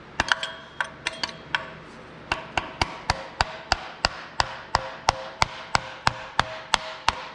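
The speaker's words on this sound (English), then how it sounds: "What you need is a fairly sturdy scraper like this, one that you can whack the back of, and just start in a corner" A sturdy scraper struck on its back with a hammer to break an RTV sealant seal on a Vanagon engine during an engine swap: a quick cluster of taps, then about fifteen sharp, close metallic whacks at a steady pace.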